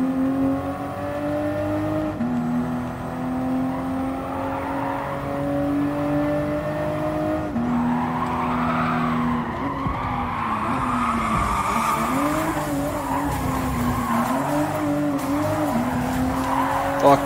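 A Toyota GR Supra is driven hard and skids at Kyoto Driving Park in Gran Turismo Sport, its engine droning and shifting pitch steadily while tire squeals rise and fall throughout, with no talking.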